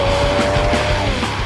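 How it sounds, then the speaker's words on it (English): Lamborghini Murcielago and Gallardo racing each other, a loud, steady roar of engines and rushing tire noise held close for a second and a half, with no voices. "I can't believe I'm racing a Murcielago with a Gallardo."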